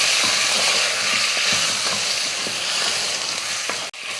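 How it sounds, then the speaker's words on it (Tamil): Chicken sautéing in a pan with turmeric powder and salt gives a steady broadband sizzle, with soft scrapes of stirring at regular intervals and a sharp knock just before the end. "மஞ்சள் தூள் போட்டு உப்பு போட்டு வதக்கியாச்சு"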